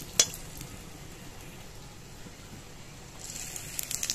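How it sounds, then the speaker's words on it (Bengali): Dry red chillies, bay leaves and whole garam masala frying in oil for chana dal, a faint soft sizzle with a sharp clink near the start and light stirring scrapes toward the end. "ভালো করে নেড়ে চেড়ে এটাকে ভেজে নিলাম"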